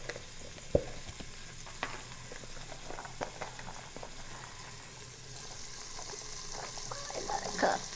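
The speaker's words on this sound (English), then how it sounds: "Now I'm putting in the onions down in that good oil and browning at the bottom." Onions brown in hot oil at the bottom of a pressure cooker for an old-fashioned beef stew, giving a soft continuous sizzle with a few sharp clicks and clatters, fairly faint and without talk.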